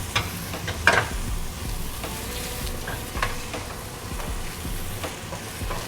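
Shallots hit a hot pan with olive oil and fat, giving a soft, steady sizzle with scattered clicks and stirring scrapes, moderately quiet and close.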